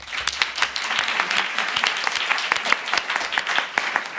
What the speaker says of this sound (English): Okay, another applause for Dr. Rianne de Heus.